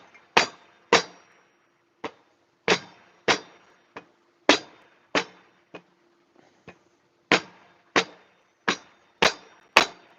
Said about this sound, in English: just using my little toy hammer here, it's doing a great job